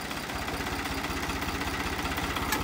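A New Holland 3630 tractor engine runs steadily at close range, a continuous low diesel throb with a regular pulsing rhythm and a rattly mechanical texture, with no voices over it.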